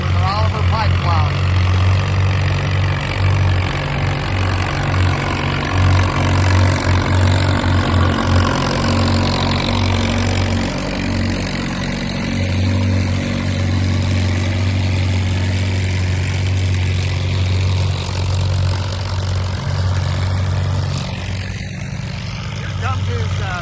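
An International 450 tractor pulling an International 60 plow at a farm show runs with a steady low engine drone throughout, loud and close, with people talking over it.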